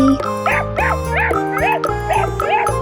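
A puppy yips in a quick, regular series of about six high barks, close up, with music playing underneath.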